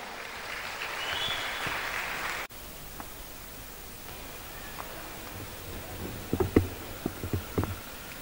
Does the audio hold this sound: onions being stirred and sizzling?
no